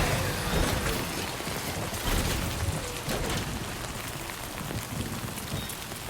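Rainfall in the video game Death Stranding 2, a steady, dense hiss of raindrops pattering on surfaces that continues without a break from start to finish, with no talking.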